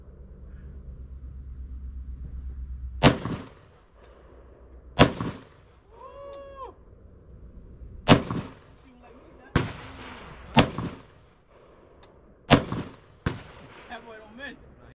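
Sharp gunshots from a micro AR pistol fitted with an ABC Rifle Company 5 inch upper, fired outdoors: about seven loud, close reports at irregular intervals, with voices in between.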